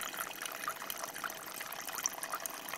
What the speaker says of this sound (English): I'm going to turn the tap on and drain the water out, the hydrosol out